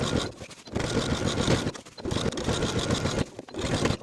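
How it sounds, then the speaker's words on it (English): A sewing machine edge stitches a folded pant hem on palazzo pants, a close, steady motor whir running in long continuous bursts with short pauses between them. "edge stitch close to the folded edge all the way around"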